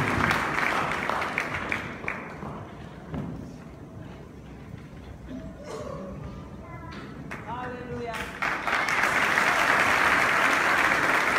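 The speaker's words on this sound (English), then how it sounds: "Round of applause, round of applause, ladies and gentlemen." A crowd applauds loudly, with clapping that thins out midway, then swells back into sustained, dense applause near the end.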